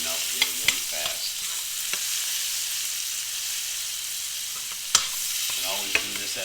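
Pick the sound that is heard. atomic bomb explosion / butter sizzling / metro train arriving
butter sizzling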